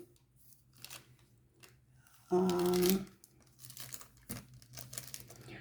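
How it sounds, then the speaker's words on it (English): Paper is pushed aside and crinkled on a diamond painting work surface, one loud rustling crumple lasting under a second, close to the mic, then quieter handling noises and faint background hum. "Going to move the paper out of the way."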